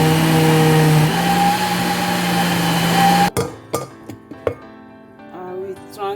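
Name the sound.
blender grinding beans with onion and habanero pepper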